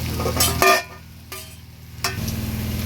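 A spatula scrapes and stirs through onions and slit green chillies frying in oil in a pan, giving a few separate clattering strokes over a soft background sizzle, close by and with no voices.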